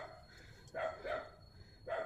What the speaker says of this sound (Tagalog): Tinatahulan ng aso.